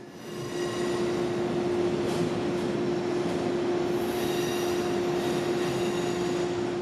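Trains moving through a busy Penn Station junction of crossovers and switches, Amtrak and Long Island Rail Road, give a steady loud rumble with a sustained tonal whine throughout, close by on the platform.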